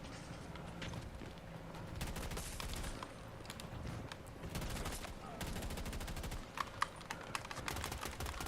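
A full-auto gun in Battlefield 6 fires rapid, steady bursts of gunfire that run for several seconds, fairly quiet in the mix and interrupted by brief gaps, with a few sharper clicks near the end.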